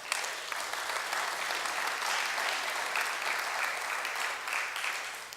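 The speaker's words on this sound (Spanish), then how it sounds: "Denle un aplauso al Señor" A church congregation applauds, a full, even roar of many hands clapping that holds steady for several seconds before tapering slightly at the end.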